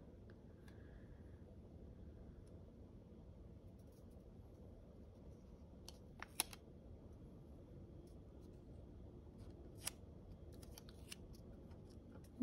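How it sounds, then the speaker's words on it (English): Scissors cutting planner stickers close by, a few sharp isolated snips spaced apart over a faint, steady room hum. "I'm trying to use all these stickers"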